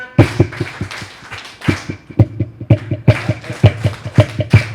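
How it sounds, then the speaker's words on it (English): Smallholder women farmers in Katsina State perform their group clap, sharp unison claps in a patterned rhythm with short pauses between phrases, loud and close. "As farmers, we have a particular clap."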